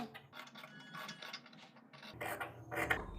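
Scissors cut through kurti fabric along a neckline margin, giving a series of close, crisp snipping and crunching blade sounds that grow louder and denser toward the end.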